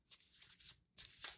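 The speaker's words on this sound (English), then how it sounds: "These are super slippery, so I am going to shuffle them the other way." Slippery tarot and oracle cards are shuffled up close in two quick, soft riffling bursts separated by a brief pause, quiet and crisp with no talking.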